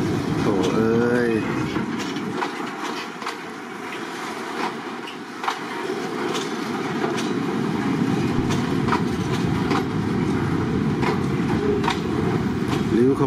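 A long daytime freight train rolls through the Bang Sue Junction platform in Bangkok, a loud continuous rumble with clattering wagon wheels and a squealing tone at the start, fairly close, with someone speaking over it.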